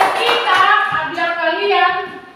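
Children in a primary classroom clap their hands together, a short ragged burst of claps mixed with young voices and a sung or chanted tone, close and fairly loud.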